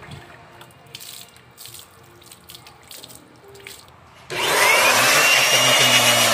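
Soft drips and light trickling, then a loud, steady spray of water bursts on and keeps rushing against a hard surface while rinsing an inverter air conditioner unit.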